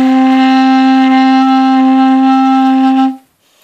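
A clarinet sustains a single steady D, the note fingered with two fingers, loud and close for about three seconds before cutting off into near silence.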